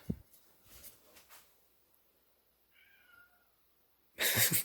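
A domestic cat gives a short, faint meow in a quiet indoor kitchen, preceded by soft handling noises and followed by a brief louder rustle at the end.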